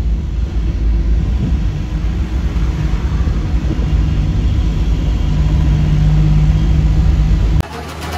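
A truck hurrying past on a road under construction, heard from a moving Ashok Leyland Dost as a loud continuous engine and road roar that swells with a droning tone before cutting off abruptly.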